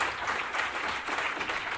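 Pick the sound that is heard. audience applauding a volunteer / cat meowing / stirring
audience applauding a volunteer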